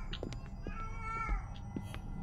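A cat meows in the horror video game Erie, a drawn-out mewing call over a low ambient hum and scattered game noises, with no talk.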